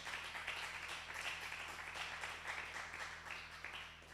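An audience at a youth business seminar claps steadily for several seconds, a dense, even patter of many hands in a room, fairly faint, with a low hum underneath.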